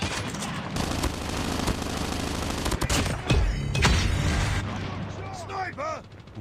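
Rapid bursts of gunfire and loud impacts from a Call of Duty Mobile match, dense and continuous over game sounds, with someone talking excitedly throughout.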